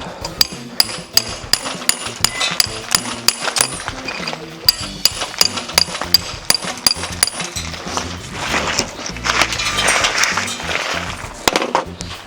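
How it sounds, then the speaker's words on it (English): Heavy chisel tool chipping old tiles off a floor in a chateau tower, giving sharp, repeated metallic impacts and scraping clinks at an uneven rhythm, close and loud, with no talking. "It's a nice heavy chisel tool."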